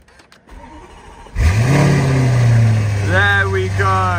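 A Lamborghini Urus engine fires up and revs loudly nearby, settling into a rough, throaty idle, with a brief spoken remark just before it starts.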